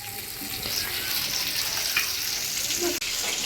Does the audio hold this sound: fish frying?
yes